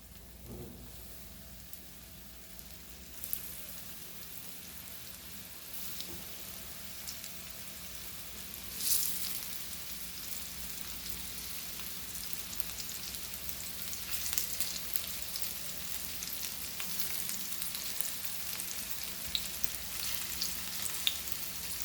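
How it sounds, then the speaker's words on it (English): Rava-coated mackerel fries in two tablespoons of hot coconut oil, giving a steady, close crackling sizzle that runs throughout with occasional louder pops and stirring touches. "Now let's fry. So my oil is hot. So I've used coconut oil 2 tablespoons."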